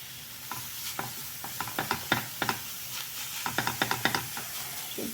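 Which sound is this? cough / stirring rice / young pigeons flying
stirring rice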